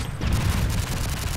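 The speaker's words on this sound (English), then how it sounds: "Oh, fucking grenade." A grenade explodes in the video game Modern Warfare 3, a loud, heavy blast that rolls into sustained rumbling and crackling debris across the whole short moment, with no talk over it.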